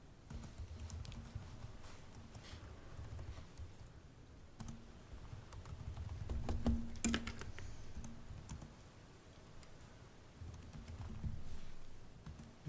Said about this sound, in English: Just when Carson's typing that up